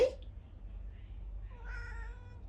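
A cat gives a soft, drawn-out meow, rising and wavering, heard up close over a low background rumble.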